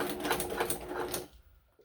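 Sewing machine stitching fold-over elastic, a fast steady mechanical whir for over a second that stops abruptly, leaving near silence.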